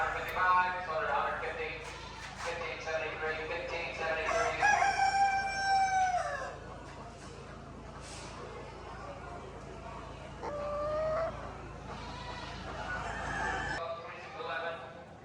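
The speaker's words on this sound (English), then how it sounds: "Look at these golden lace Polish hens." Golden lace Polish hens and other fowl at a chicken and farm animal auction, with roosters crowing repeatedly over a busy barn din, a horse whinnying briefly, occasional clucks, and people talking nearby.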